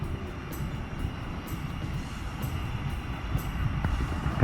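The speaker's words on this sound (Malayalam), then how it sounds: "മിക്കവാറും അവിടെ ട്രെയിൻ അതാ വരുന്നുണ്ട്, അതാ പാസ് ചെയ്യുന്ന ട്രെയിൻ" A train rolls past near the Bharathapuzha river in Palakkad, a steady low rumble with rhythmic clacks as the wheels cross rail joints. It sounds moderately distant and grows slightly louder toward the end, with no voices.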